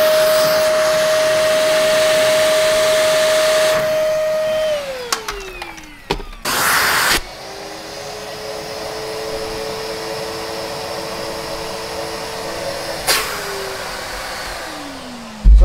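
A Numatic George car detailing vacuum running on its high setting, a steady loud motor whine that dips and shifts as it is switched and loaded, with brief bursts of suction noise.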